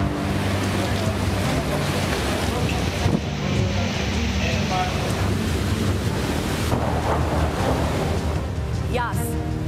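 Cyclone Yaas lashing the coastal town of Digha, with loud continuous wind roaring into the microphone and crashing sea waves filling the whole stretch without pause.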